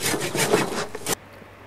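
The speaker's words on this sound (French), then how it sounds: "J'ai coupé à la scie" Rapid back-and-forth rasping of a hand saw biting through a lemon tree branch, close up, several quick strokes ending abruptly in quiet.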